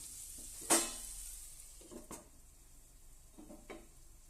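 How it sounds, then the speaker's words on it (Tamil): Masala cooking over a low flame in a pan, with a sharp metallic scrape of stirring near the start, then a few softer scrapes and taps over a faint quiet sizzle. "இப்போ நம்ம வந்து ஒரு 5 minutesக்கு லோ ஃப்ளேமில் குக் பண்ணலாம்."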